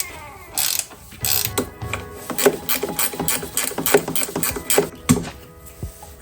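Rapid clicking ratchet strokes loosen the front bumper bolt on a crashed 2021 Polaris Switchback Assault 850 snowmobile, coming in short, close bursts with brief pauses between.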